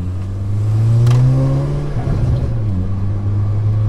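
An Audi S3 on a road test after repair, its engine revving up and settling back, loud and close with a steady droning hum and a rising pitch sweep, no talk.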